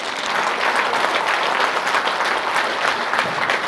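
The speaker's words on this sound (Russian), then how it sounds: "друзья мои, под ваши бурные аплодисменты." Enthusiastic audience applause fills a hall at a children's talent gala concert, a dense, steady wash of many hands clapping at full volume throughout with no one speaking.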